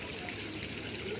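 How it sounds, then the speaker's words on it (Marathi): Rainwater runs down the stone steps of the Prati Shirdi Sai Baba temple in Pune, a soft, continuous trickling rush heard faintly at a distance. "या पायऱ्यांवरून असं पाणी येतं."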